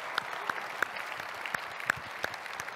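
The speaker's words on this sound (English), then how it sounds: "one more round of applause, ladies and gentlemen." Scattered applause from a small audience at a talk, a thin patter of claps with several louder individual claps standing out, fairly quiet.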